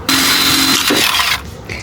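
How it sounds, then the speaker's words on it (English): A power drill whirs loudly as it bores a hole in a 1988 Dodge Raider with a worn-out drill bit, steady for about a second before winding down, close by. "Turns out we're just gonna drill a hole back to this."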